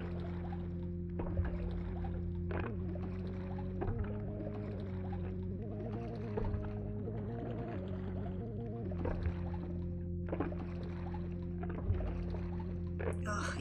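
Water sounds in the horror video game Martha is Dead: soft sloshing and trickling over a droning ambient tone with low tonal notes, steady and moderately loud.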